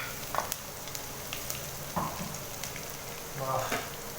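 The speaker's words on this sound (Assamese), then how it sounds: "যেতিয়ালৈকে নহৰুকেইটা ৰঙা নপৰে, ৰঙচুৱা নপৰালৈকে আমি ভাজি থাকিম।" Garlic cloves frying in hot oil with fenugreek seeds for an Assamese fish and amberella dish, giving a soft continuous sizzle with occasional crackles and pan scrapes, quiet and close.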